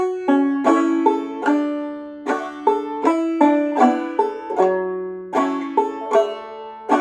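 Solo acoustic Western country guitar picks a melodic line full of hammer-ons and pull-offs, crisp plucked notes in a steady rhythm with ringing decays, close and clean with no talking.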